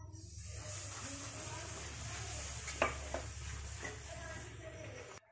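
Yogurt cooks and is stirred in a pan for dum aloo, a soft continuous sizzle with a few scraping clicks of the spoon, close and fairly quiet, ending abruptly.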